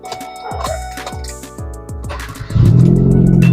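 A small engine cranks after a spark plug replacement, with a run of regular mechanical clicks and pulses for a couple of seconds, then it catches and settles into a loud, steady idle.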